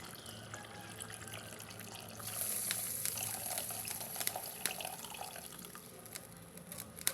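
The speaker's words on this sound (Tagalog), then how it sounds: "Lagay na natin yung unang gata." First-pressed coconut milk pours into a cooking pan: a soft, continuous liquid trickle with light splashy drips that swells midway and carries on, close and fairly quiet.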